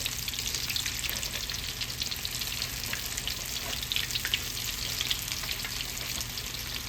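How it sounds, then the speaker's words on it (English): Okra frying in oil crackles and sizzles loudly and steadily at close range, a dense, unbroken hiss of bubbling with no pauses. "It's not long at all to fry some okra now."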